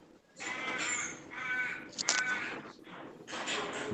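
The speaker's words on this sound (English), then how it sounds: "There's some crazy birds at your place, Jack." Crows caw repeatedly outdoors in loud, overlapping bursts, with a busy chorus of calls rising and falling over several seconds and no speech.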